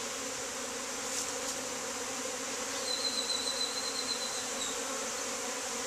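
Honeybee swarm at a backyard hive: a continuous, even buzzing hum from many bees, steady and moderately close, with no talk.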